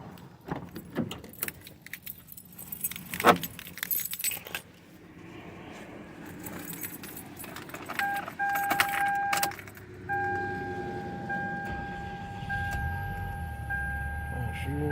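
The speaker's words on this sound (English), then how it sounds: "we go inside the car and see if this baby start up" A 2002 Toyota Camry, just fitted with a new starter and battery, begins with keys jangling, then the engine cranks and catches. It settles into a steady idle with a faint electronic tone over it.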